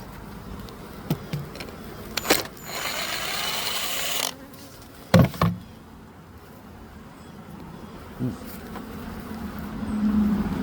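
Honey bees buzz around a busy hive entrance the day after a split. There is a faint steady hum with close passing buzzes and a few louder handling knocks and rustles.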